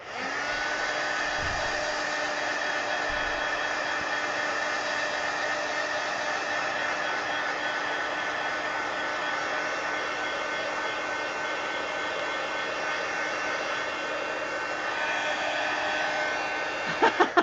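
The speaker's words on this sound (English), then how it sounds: "Heat gun." A heat gun blows a steady, close, even whoosh of hot air while drying paint on a coloring page, running unbroken for the whole stretch with a few small clicks near the end.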